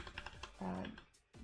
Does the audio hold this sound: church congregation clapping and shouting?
no